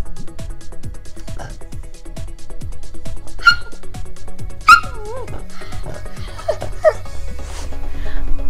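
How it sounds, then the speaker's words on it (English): A dog eats vegan dog treats, making small whimpers, yips and a few short vocal sounds amid chewing and handling noises, close by, with a person talking softly in the background. "this dog is loving her vegan dog treats"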